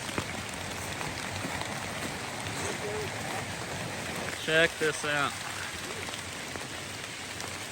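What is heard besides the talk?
Rocky Falls waterfall rushing into creek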